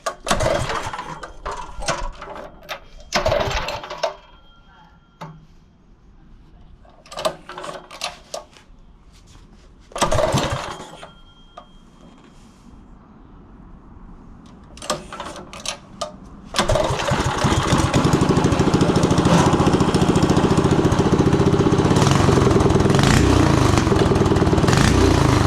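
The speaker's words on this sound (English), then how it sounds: "now that it's running leaner, we'll give it a little bit of choke." A Tillotson 212 engine on a Coleman mini bike, tuned leaner with a little choke, sputters in short revving bursts and then settles into a loud, continuous, buzzing run that fills the final stretch.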